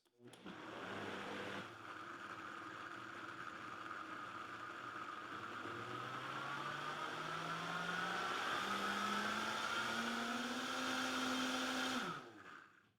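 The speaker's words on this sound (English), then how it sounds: "Now that the pumpkin puree is in there with the cashews and dates, we want to liquefy this." A blender runs continuously for about twelve seconds, liquefying pumpkin puree with cashews and dates; its motor whine holds steady, then slowly climbs in pitch as the thick mixture loosens, and cuts off sharply at the end.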